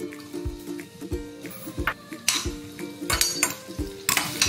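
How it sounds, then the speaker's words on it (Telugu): Four or five green chillies frying in hot oil in a pan, sizzling and spitting under repeated clinks and scrapes of a spoon against the metal, close up with no talking. "లైట్ బ్రౌన్ వచ్చే వరకు ఇలా వేయించుకోవాలి."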